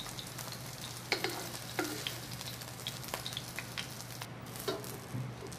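Vegetarian meat shreds stir-fried in a wok, a continuous sizzle broken by repeated sharp scraping and clanking strokes of a spatula at an irregular rhythm, close and moderately loud with a low steady hum beneath.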